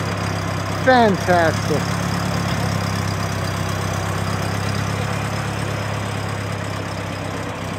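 A 1919 Templar Roadster engine idling while running rich at a car show, a steady low rumble heard close, with a short spoken word early on.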